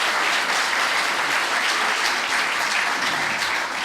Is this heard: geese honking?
no